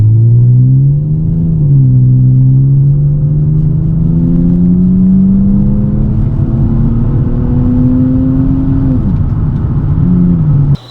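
A BMW E36 with a manual gearbox accelerating flat out in a 0 to 60 run, its engine note climbing steadily in pitch with a gear change near the end; loud, close and continuous, with no talking.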